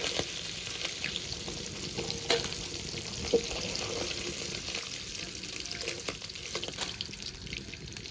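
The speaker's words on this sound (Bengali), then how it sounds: "ওই একই তেলে কিন্তু টকের জন্য মাছটা আমি ভেজে নেব" A steady, fairly quiet sizzle of small fish frying in oil runs throughout, with a couple of faint clinks and scrapes; no one speaks.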